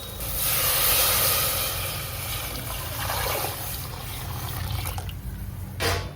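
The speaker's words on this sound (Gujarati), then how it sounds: "પાણી એડ કરીશું" A steady rush of coconut water pouring and hissing into a cooking pot, tapering off toward the end.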